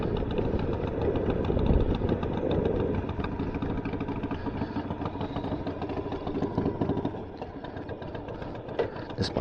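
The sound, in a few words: cold motorcycle engine idling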